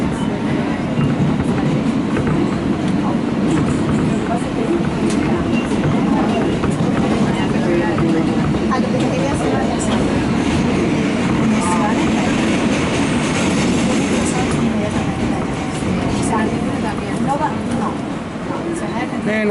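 An R160B subway train on the N line rumbles along the rails with a steady, loud roar and rhythmic clatter, voices faintly mixed in under the noise.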